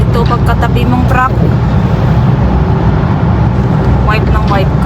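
A truck driving alongside a car on a road, a loud steady rumble of tires and engine heard from inside the vehicle, with a voice talking over it.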